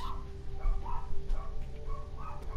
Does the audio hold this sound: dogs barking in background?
yes